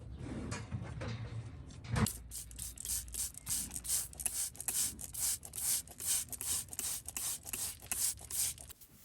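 A hoof knife trims loose edges from a cow's claw in a rapid series of short, close scraping strokes, rhythmic and bright, following a few rougher rubs at the start.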